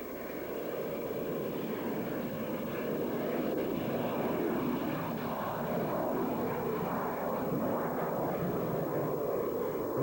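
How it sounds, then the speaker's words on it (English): A Harrier jump jet's Rolls-Royce engine gives off a steady, even roar that holds constant throughout without any talk. "its Rolls-Royce engine is specially configured so that the exhaust can be vented downwards, enabling the Harrier to take off and land vertically"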